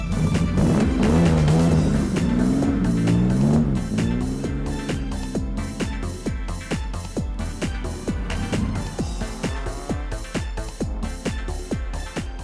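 A 1998 Marlin Sportster roadster on fat wheels with sticky Toyo tyres, its engine revving up close with rising and falling pitch, then settling into a steady rhythmic pulsing drone.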